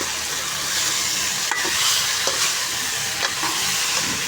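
Potato slices with crushed cumin and coriander sizzle in a frying pan while being stirred, a constant bright frying hiss broken by a few sharp scraping strokes, close and fairly loud with no talking.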